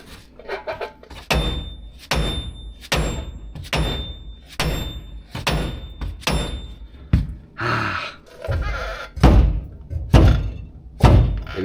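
A hammer strikes car suspension parts on a 1980 Trans Am during a C6 transaxle swap, a series of heavy metallic blows in a steady rhythm, loud and close, about a dozen hits.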